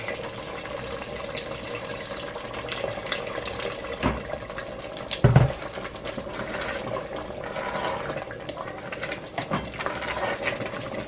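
Water is poured into a cooking pot in a home kitchen, a steady broad splashing wash that runs for several seconds with a few brief knocks partway through and no talking.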